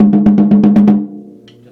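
Snare drum with its snares switched off, played like a tom: a quick run of about seven loud, close, evenly spaced hits with a boomy pitched ring, then a fading decay.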